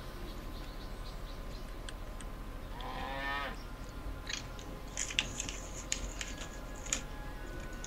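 Cattle moo once in the Civilization V strategy game, a short harmonic call over a steady background of game ambience and music, followed by a few sharp clicks.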